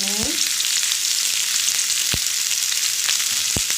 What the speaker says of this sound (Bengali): বেগুনগুলো ভাজা ভাজা হয়ে গেছে